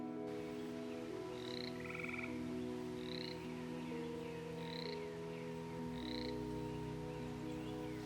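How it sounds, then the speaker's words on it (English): Gray tree frogs call in a forest, a series of short trilling croaks repeating about once a second over a steady low hum of background noise. "That's the gray tree frog."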